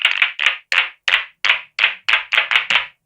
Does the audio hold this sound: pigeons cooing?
no